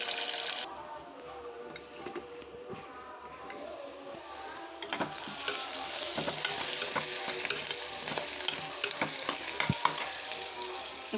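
Onion pieces fry with green chillies and curry leaves in a hot pan, a steady close sizzle that grows louder midway, broken by scraping stirs and clinks of a spoon against the pan.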